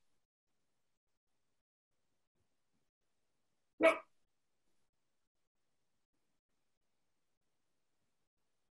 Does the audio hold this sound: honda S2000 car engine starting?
no